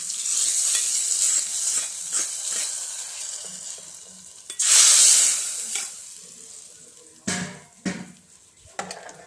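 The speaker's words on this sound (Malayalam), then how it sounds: "കടുക് വറുത്തത് നമ്മുടെ കറിയിലേക്ക് ചേർത്ത് കൊടുക്കാവേ" Mustard seeds fried in hot oil hiss and sizzle loudly as the tempering is poured into a cucumber and jackfruit seed curry, followed by stirring and scraping in the pot.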